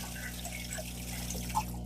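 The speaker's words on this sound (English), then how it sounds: "I'm going to use the water that was in these tadpole tanks already to fill these up." Water poured from tadpole tanks into freshly set-up tanks, a steady trickling flow at moderate distance running throughout, with a brief brighter splash near the end over a constant low hum.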